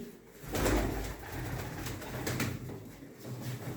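Pigeons cooing at a pigeon sale in Mardin, soft throaty coos rising and falling over a few seconds, fairly close, with no talking.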